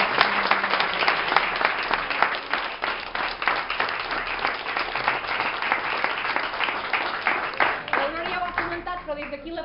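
A crowd claps warmly at the opening of a painting exhibition at a residence in Casserres, dense steady applause filling the room for nearly ten seconds, with voices mixed in underneath.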